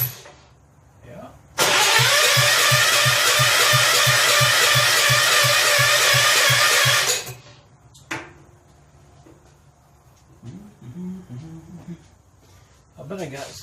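Kohler K241 engine on a John Deere 210 tractor cranking briefly, then firing and running loud and close with a rapid rhythmic chug for about five seconds before cutting out, followed by clanks and people talking.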